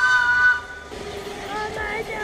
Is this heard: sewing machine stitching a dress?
no